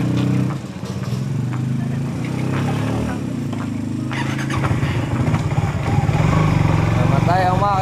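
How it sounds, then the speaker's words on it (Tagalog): An engine runs with a steady rumble and then cuts out as it stalls, while several people talk over it. "Namatay ang makina."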